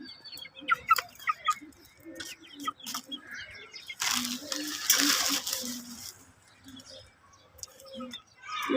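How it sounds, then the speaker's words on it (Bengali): Chickens in a rooftop garden cluck in scattered bursts near the recorder, with a stretch of wing flapping midway, while a person talks over them. "এখানে হচ্ছে আরেকটা মুরগি"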